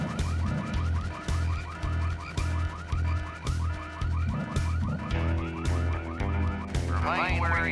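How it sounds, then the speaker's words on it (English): An alarm goes off in the video game Full Throttle Remastered, a repeating electronic warbling siren cycling steadily over a pulsing low background, moderately loud with no talk. "But who set off the alarm before we..."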